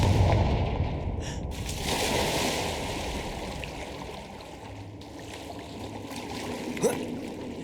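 Confringo fire spell cast in the video game Hogwarts Legacy: a loud whooshing burst that rolls into a sustained roaring rumble, followed by quieter crackling and a sharp pop near the end.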